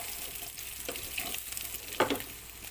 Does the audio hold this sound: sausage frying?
yes